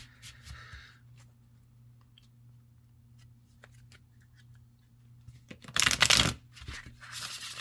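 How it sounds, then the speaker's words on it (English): Cards from a new, floppy Elemental Empath Oracle deck are shuffled by hand from the side, with soft scattered card clicks and then a brief loud riffling burst of cardstock close by. "shuffling oracle cards from the side"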